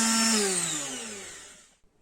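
An electric sander's motor whines loudly and then winds down, its pitch falling steadily over about two seconds before it cuts out into near silence.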